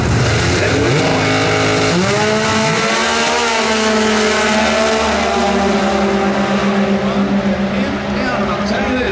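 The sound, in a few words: drag race cars launching and racing, NHRA Sonoma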